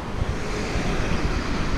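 Cold wind blowing outdoors on a sunny day in snowy Japan: a steady, rushing roar buffeting the microphone, loud and continuous with no voices.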